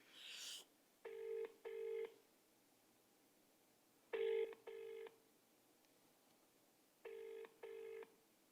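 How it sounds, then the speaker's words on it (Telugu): An outgoing telephone call rings out in a repeating double-pulse ringback tone, three pairs spaced evenly several seconds apart, clear and alone after a brief burst of noise at the start. "ఒక్కసారి పాషం యాదగిరి గారికి కాల్ చేద్దాం."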